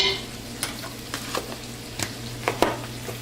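Caraway seeds fry in a pot as the first step of a spelt dinkel soup. A low, steady sizzle carries a few sharp spoon clicks and scrapes against the pot, and no one speaks.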